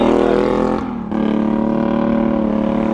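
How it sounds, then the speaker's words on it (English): A motorcycle passes nearby on the road. Its engine drones loudly and dips briefly before surging back to a steady roar. "Let this bike pass."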